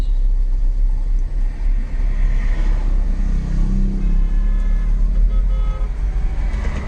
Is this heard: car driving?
yes